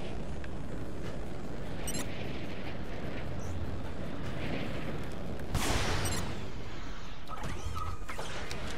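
Gunfire and explosive blasts in Marvel's Avengers, a dense, continuous barrage of loud shots and crashes with a heavier burst partway through.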